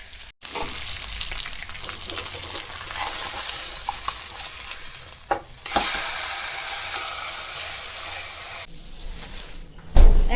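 Masala-coated fish fries in oil with a continuous loud sizzle. The hiss swells after a piece is turned midway, and there is a sharp clatter at the end.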